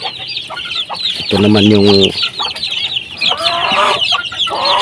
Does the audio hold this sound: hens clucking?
yes